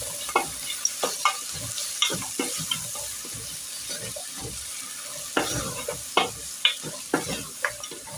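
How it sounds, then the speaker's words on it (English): Beef stew with spring onions is stirred in a pot, with a soft sizzle underneath and a run of sharp spoon knocks and scrapes coming in irregular bursts, close and fairly quiet. "You have to keep on turning."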